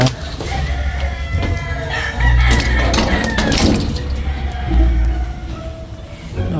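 Chickens and a rooster inside a coop holding eggs, loud clucking and crowing calls close by, with a person talking nearby.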